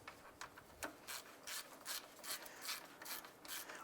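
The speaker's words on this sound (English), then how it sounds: "Once those bolts are started, let's go ahead and snug those down." A hand ratchet snugs down the radiator fan shroud bolts on a 2001-2005 Honda Civic, plastic bolted to plastic, with a steady run of close, quiet clicking strokes and no talk.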